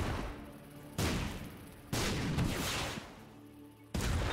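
Brimstone bombs exploding in The Binding of Isaac: Repentance, with four loud booming blasts at roughly one-second intervals, each trailing off into a rumbling decay.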